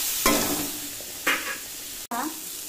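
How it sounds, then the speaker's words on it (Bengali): Bitter gourd fries in a pan with turmeric, giving a steady sizzle that swells each time a spoon stirs and scrapes through it. Three clear stirring strokes sound close by, with no talk over them. "এইভাবে 5-7 মিনিট ভালোভাবে এরকম করে ভেজে নেব।"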